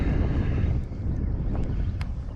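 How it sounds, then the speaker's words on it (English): Steady wind blowing across a lake during a crappie fishing outing, a constant low rushing roar buffeting the microphone with no talk, holding at an even level throughout. "we got some pretty good wind today."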